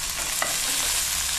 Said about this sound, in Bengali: মাঝে মাঝে এটাকে নাড়াতে থাকবে